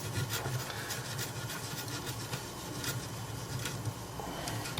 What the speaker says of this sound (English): carry on giving it a bit of a scrub just to get it ready for that ISA socket